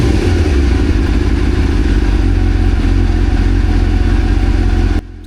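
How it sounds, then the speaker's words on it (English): A 1999 Suzuki GSX-R 600 motorcycle engine, carburetors freshly cleaned, held at steady high revs close up for about five seconds, then dropping off abruptly at the end, with no voices. "I'm going to give it a few more revs and see how it is"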